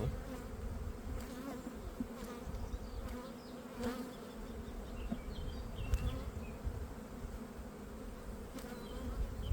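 Honeybees humming inside an overwintering dual-queen hive, two queens in one box, a dense steady buzz close up with faint higher buzzes of individual bees darting through.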